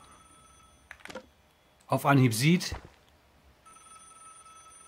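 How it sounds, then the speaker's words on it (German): A telephone rings insistently in the video game Vigor, its repeating electronic trill heard at the start and again at the end, with someone talking over the middle section. "Boah, dieses Telefon ist echt nervig penetrant, aber ich kann nicht rangehen."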